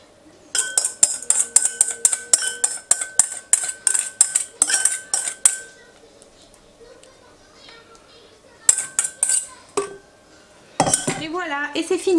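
Metal spoon scraping and clinking against a dish while apples are spooned onto clafoutis batter, a fast run of sharp, close clinks that pauses, then resumes briefly before a burst of handling noise.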